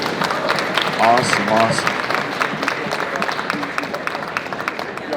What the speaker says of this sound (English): Give us a round of applause then.